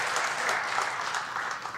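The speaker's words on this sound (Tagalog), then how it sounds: "Isa pa nga pong palakpak para sa Panginoon" Church congregation applauding for the Lord during a Sunday morning service, a short, steady burst of many hands clapping together at moderate volume, unaccompanied by talk.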